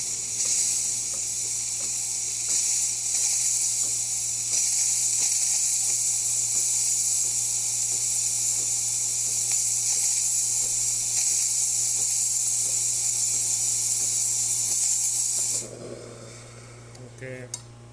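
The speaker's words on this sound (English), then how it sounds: "let's test the steamer" Steam wand on a DeLonghi Magnifica coffee machine, serviced and tuned up, giving a loud, steady hiss that runs unbroken for about fifteen seconds before cutting off abruptly, leaving a faint mechanical hum.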